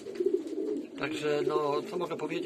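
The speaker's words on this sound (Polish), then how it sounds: "Teraz akurat gołębie są karmione," Soft cooing and low burbling of pigeons at feeding time in a breeder's loft, under someone talking close by.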